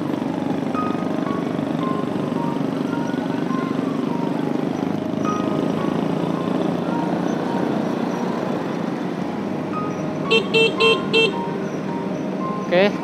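A motorcycle convoy riding to Poboya cemetery makes a steady, loud drone of engines and road noise, and several short horn toots come close together near the end.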